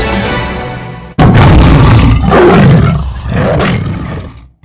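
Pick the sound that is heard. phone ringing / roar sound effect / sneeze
roar sound effect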